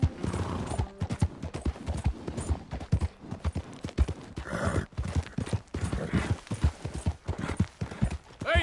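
Horse hooves clip-clop in Red Dead Redemption 2, a busy run of close, irregular thuds with scattered louder knocks, as if several horses are moving, with faint voices now and then.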